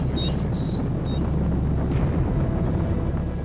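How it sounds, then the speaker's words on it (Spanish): Rocket engine roar, a loud, continuous low rumble holding steady throughout with dense broadband texture and a few brief hissing bursts early on. "Ruido de cohetes."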